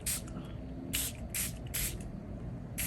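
Spray bottle misting Xuan paper in five short hissing bursts spaced unevenly, close and fairly quiet.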